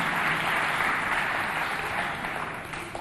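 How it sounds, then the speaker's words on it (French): An audience applauds the child panelists at an African Children's Day event, a dense wash of clapping that stays steady and loud for the full three seconds. "Applaudissez pour eux, s'il vous plaît."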